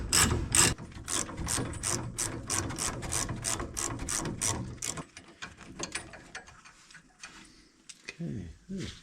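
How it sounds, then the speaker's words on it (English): Rapid ratchet clicking as a ratchet works a front suspension bolt loose on a VW Vanagon, a fast regular run of sharp clicks up close that stops midway, followed by scattered metallic clinks. "from this side, you put the breaker bar down and try and break it going up"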